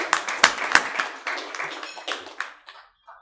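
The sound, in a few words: audience applause at an awards gala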